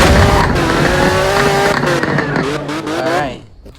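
A Porsche in the Roblox game Driving Empire laps a circuit track, its engine note rising and falling through shifts, loud and close, before cutting out abruptly near the end.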